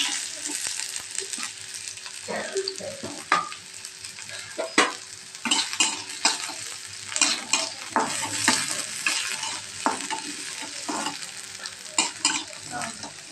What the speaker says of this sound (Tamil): எண்ணெய் ஊற்றி வச்சுருக்கேன் அந்த வெங்காயத்தை போட்டுக்கிறேன்